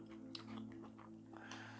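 Close, quiet crunching as someone chews Chinese takeaway fried mushrooms, a run of soft, irregular bites over a steady low hum, with no talking.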